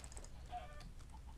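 A chicken in a video game gives a few short, quiet clucks over a low background hum.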